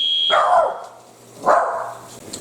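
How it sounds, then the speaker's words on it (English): A dog lets out two drawn-out, moaning groans, close by in a home kitchen during cooking, with a faint steady electronic tone in the background. "you can hear the dog in the background groaning"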